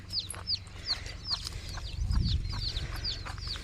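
Six chicks cheep in a rapid stream of high peeps while their mother hen gives soft low clucks nearby, mid-clip.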